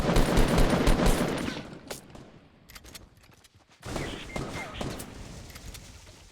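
Rapid bursts of gunfire crackle in Fortnite, dense and fairly loud at first, thinning into scattered shots before another volley, with a voice talking over parts of it.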